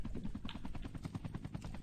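A helicopter in Call of Duty Mobile keeps up a rapid, steady rotor chop at low volume, a continuous pulsing thrum with no talk.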